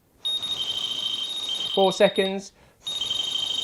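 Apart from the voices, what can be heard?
Delkim carp fishing bite alarm sounding on a run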